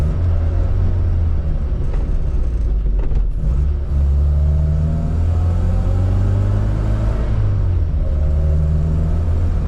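A 1981 Mini 1000 cruises along the road with a steady, droning engine rumble and tyre noise, its pitch rising and falling gently with gear and speed, loud and close throughout with no talking.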